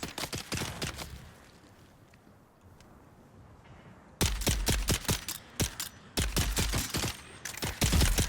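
Rapid gunshots in the survival game Dune: Awakening, sharp cracking bursts of fire in quick clusters, a lull with only faint background noise, then renewed volleys of close, punchy shots.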